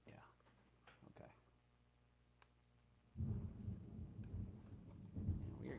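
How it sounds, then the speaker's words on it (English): Rain falls outside with a low rumble of thunder, faint at first and then a heavier wash of rain and rumbling swells up in the second half, with a voice murmuring faintly early on. "we are getting some good rain over here"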